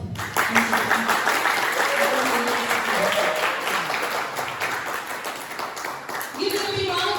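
Audience applause for winners at a university quiz competition final round: dense, continuous clapping from a room of people throughout, with voices and tonal sounds mixed in under it.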